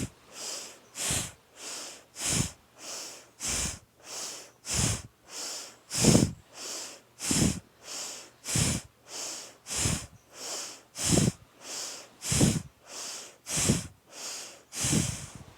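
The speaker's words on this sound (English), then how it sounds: "we go into our Bastrika breathing" Bastrika yoga bellows breathing: about twenty forceful nasal exhalations and inhalations pump in a fast, even rhythm, close and loud, with no talking.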